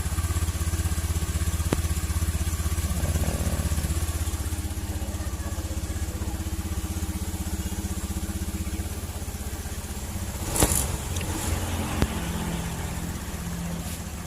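A Honda Beat fuel-injected scooter engine running steadily at idle, a continuous low mechanical drone, close and fairly loud, with a brief rise near the end and no talking.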